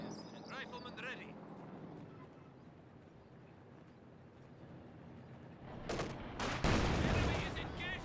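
Gunfire in the Company of Heroes 2 strategy game, a rough burst of loud cracks and rattling shots near the end, rising over a constant background din of battle ambience.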